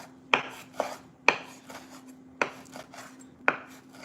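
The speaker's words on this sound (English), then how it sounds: "I think I have a weird chopping technique." A knife chops food on a cutting board in a home kitchen, with about six sharp, close knocks at uneven intervals and soft scraping in between.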